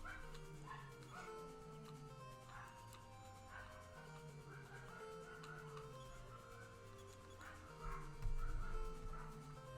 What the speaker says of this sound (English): there are dogs barking outside my house